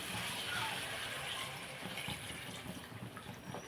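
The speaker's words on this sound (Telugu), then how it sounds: "మనం దీంట్లోకి వాటర్ ఒక గ్లాసున్నర వాటర్ వేసుకుందండి" Water poured from a glass into simmering mutton gongura curry in a pot, a soft continuous gushing splash heard fairly faint, with a voice talking over it.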